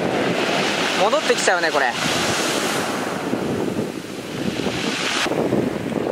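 Strong wind buffets the microphone over steady crashing surf on a beach at Numazu, a constant loud rushing wash, with a person speaking briefly over it.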